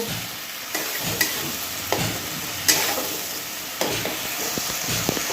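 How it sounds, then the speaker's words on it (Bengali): A spice paste with salt fries and sizzles in a pan while being stirred, with a steady hiss broken by periodic scrapes and knocks of the spoon, close up and without talk. "এবারে মশলাটা একটু ভালো করে কষিয়ে নেব।"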